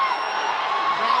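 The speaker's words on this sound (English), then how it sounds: "Crowd is roaring." A boxing crowd roars at the close of a bout between Carl James Martin and Aran Dipaen, a dense, steady wash of cheering and whooping voices with no break.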